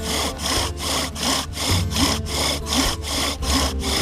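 Two wooden sticks rubbed hard together to make fire by friction, heating and grinding wood dust into a notch: a close, rhythmic back-and-forth rasping like sawing, about two strokes per second, with no speech.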